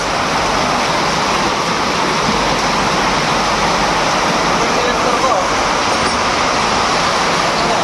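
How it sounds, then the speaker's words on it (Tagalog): Heavy rain pours down in a dense, unbroken hiss that stays loud and constant throughout, with a faint low rumble underneath. "inabutan na tayo ng malakas na ulan"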